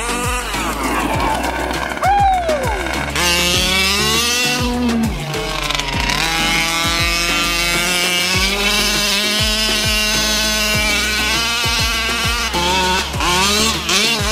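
A modified 1/5th scale petrol RC truck runs its engine hard and very loud, a continuous buzzing roar that rises and falls in pitch with throttle changes throughout.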